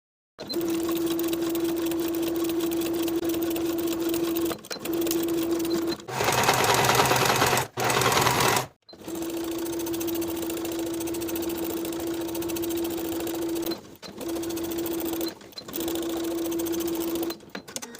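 A sewing machine stitches a jeans seam in bursts, a fast steady motor hum stopping and restarting several times with short pauses and one brief louder rattling run.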